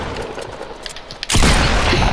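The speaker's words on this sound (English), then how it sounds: "Mark grenades me." A grenade in Fortnite goes off with a sudden loud blast partway through, following quieter game noise and leaving a sustained roar and rumble afterward.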